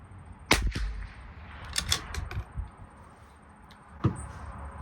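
A Bergara B14R rifle fires SK long range match ammunition outdoors, three sharp loud shots spaced unevenly, each with a brief rolling echo, over light wind and background noise.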